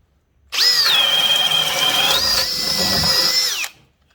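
A Metabo DV 36DA cordless hammer drill drills through material, a loud, steady high-pitched whine that starts abruptly, holds for about three seconds with a slight pitch shift, then stops.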